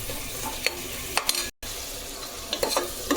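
Onions with salt sautéing in a hot pan, a steady sizzle broken by repeated scraping stir strokes close by, with a brief silent gap midway.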